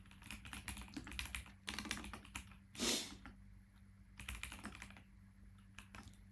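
Keys clatter on a computer keyboard as code is typed, in quick irregular bursts with short gaps, close and fairly quiet.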